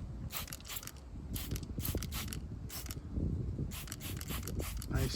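A sprayer applies sealant to a car in short repeated bursts, each hiss starting and stopping in a rhythmic pattern, close by with faint mechanical clicks beneath.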